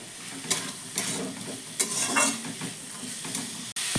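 Lightly salted vegetables frying in a pan, stirred with repeated spatula scrapes over a steady close sizzle, strokes coming roughly every half second before a brief cut near the end.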